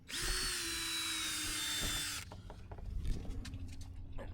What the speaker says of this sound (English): we're drilling all these holes back out from where we hit epoxy